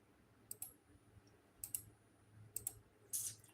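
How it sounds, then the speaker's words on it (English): A computer mouse gives quiet, crisp clicks, mostly in quick pairs, at a loose rhythm of roughly one burst per second and a slightly longer one at the end, close by in a still room. "clicking through these press releases for you as quickly as I can"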